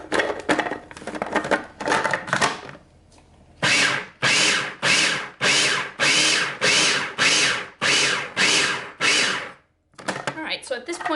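A food processor blitzes falafel mixture with fresh lemon juice in a run of loud, close pulses of a second or so each, separated by brief gaps, then stops.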